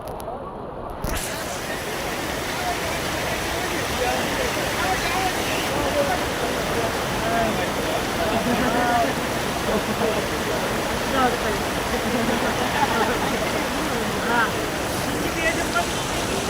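A flooded river (Keri river) rushes past in a loud, continuous broadband roar that stays steady and close throughout, with a brief quieter moment at the start.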